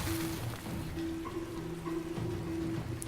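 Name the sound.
rain from a rain scroll in video game Divinity: Original Sin II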